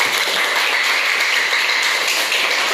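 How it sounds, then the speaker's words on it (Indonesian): A class applauds Hadijah, the student with the highest score, with a continuous, fairly loud patter of many hands clapping together in a room, steady from start to finish with no voices. "Beri tepuk tangan untuk Hadijah"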